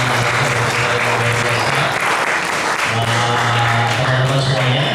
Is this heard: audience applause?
yes